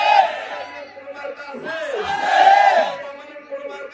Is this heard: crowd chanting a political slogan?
yes